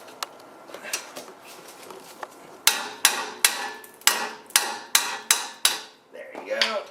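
Hammer striking hard on a 2004 Honda CR-V brake caliper bolt, a few lighter taps followed by about nine loud, evenly spaced metallic blows that ring close, with a brief voice at the end.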